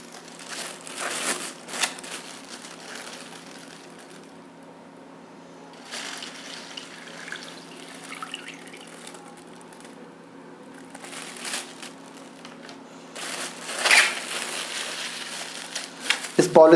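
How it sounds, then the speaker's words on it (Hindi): Water is poured into a polythene bag during a classroom floatation demonstration, giving soft, intermittent crinkling and splashy rustles in several bursts, faint and close, with someone talking now and then. "इसको अब हम पॉलीथीन में कंटेन कर ले रहे हैं।"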